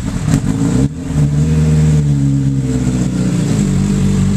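A Japanese motorcycle engine idles steadily up close and revs in a few short blips, warming its oil ahead of an oil and filter change, with a dip in the sound near the one-second mark.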